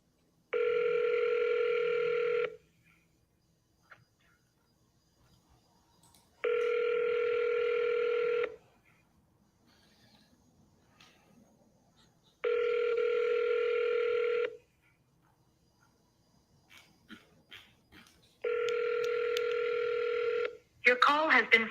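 Ringback tone on an outgoing phone call, four steady tone bursts of about two seconds each separated by pauses, clear and close, followed by a brief recorded voice at the end.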